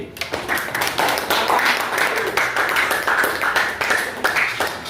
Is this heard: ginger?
no